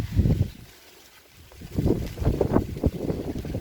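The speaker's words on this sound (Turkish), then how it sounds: "Evet baya bir rüzgar var. Çok güzel esiyor bu arada." Strong wind buffets the microphone in low rumbling gusts in a pepper garden in Afyon, Turkey, easing briefly before surging again in uneven bursts.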